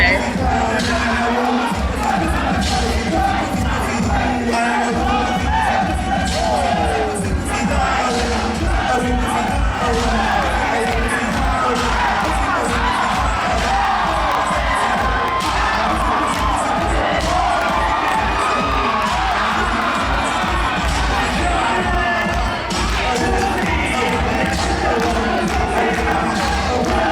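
A roaring crowd at a vogue ball cheering and shouting continuously, loud and dense, with whoops and thumping beats throughout.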